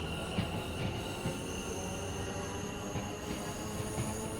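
A video-game electric train with its pantograph raised speeds along the line, giving a steady rushing rumble of wheels on rail with thin high whines and squeals, fairly quiet and continuous throughout, with no speech.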